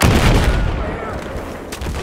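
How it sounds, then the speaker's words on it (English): Predator SRAW wire-guided missile launcher in Battlefield 4 firing, a loud booming launch blast at once, fading into a rumbling tail over about two seconds. "The Shraw is a wire-guided weapon. It operates just like the TOW missile. You launch it, then move your sights to guide in that missile."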